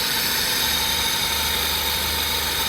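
A $600 Honda Civic engine runs with a noisy intake, a constant loud hiss and rumble that holds steady throughout, with no voices over it.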